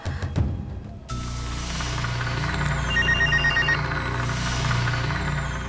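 A telephone rings steadily as a call is placed in a Hindi family drama, a repeating electronic ring heard alone over a low background tone, with no talking.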